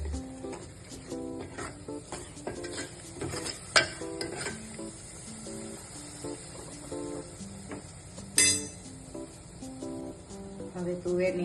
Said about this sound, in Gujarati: હવે એને સારી રીતે મિક્સ કરી લઈશું.